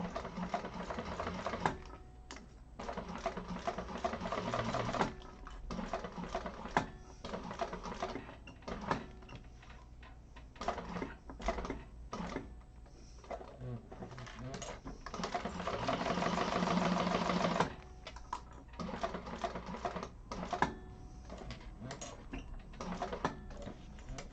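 A sewing machine basting the raw edges of a handbag, running in bursts of rapid mechanical stitching with short pauses between runs, close and clear with no talking.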